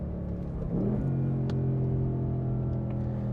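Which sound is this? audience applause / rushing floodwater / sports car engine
sports car engine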